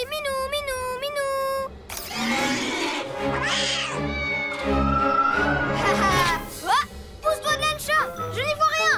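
A cartoon cat lets out several wavering, drawn-out meows and yowls, close and loud, with jingling chimes and other effects between the cries and a voice also heard.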